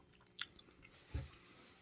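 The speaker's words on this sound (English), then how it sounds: "Time for me to taste the oyster mushroom." Raw oyster mushroom, freshly foraged, bitten and chewed close up: a sharp crunchy bite, a few quieter chews, then a second heavier crunch, with no talking.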